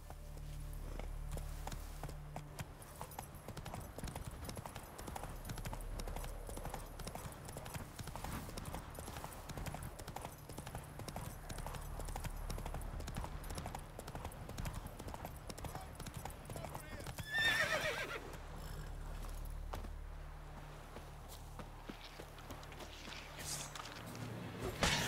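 Rhythmic clip-clop of horse hooves trotting steadily in the video game The Witcher 3, with a horse whinny partway through and a voice talking over it.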